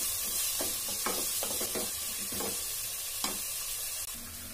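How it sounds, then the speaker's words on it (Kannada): Fresh green peas fry in a pan for menthya bath, a steady broadband sizzle running throughout, punctuated by several soft scraping stirs of a spatula at irregular intervals, close and moderately loud with no voices. "ಇದನ್ನೆಲ್ಲ ಚೆನ್ನಾಗಿ ಫ್ರೈ ಮಾಡ್ಕೊಳ್ಳೋಣ"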